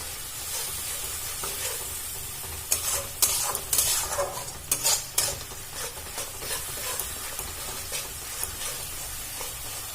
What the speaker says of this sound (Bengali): দু চামচ আদা আর কাঁচা লঙ্কা বাটাটা দিয়ে দিলাম। দিয়ে আবারও ভালো করে ভেজে নেব।